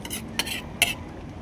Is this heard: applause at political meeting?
no